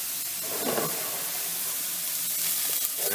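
Grated onion softening in a pan over low heat, with a quiet, steady sizzle and hiss running close by throughout, faintly brightening now and then, and no voices.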